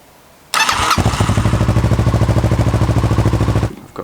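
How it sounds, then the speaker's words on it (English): Kawasaki ER-6n motorcycle engine cranking over and catching at once, then idling loud and close with a steady, rapid pulsing throb for about three seconds before cutting off. "warm the engine up so that the oil runs out easily"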